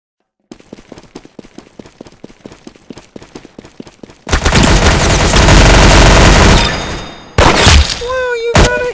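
Gunfire in the Roblox Arsenal video game: a rapid, evenly spaced string of sharp shots is followed by a loud, dense burst of heavier firing and a short final volley.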